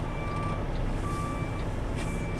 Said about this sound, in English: here comes the daggum truck with that damn fucking beeping sound, man